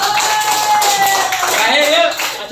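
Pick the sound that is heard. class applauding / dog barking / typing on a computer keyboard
class applauding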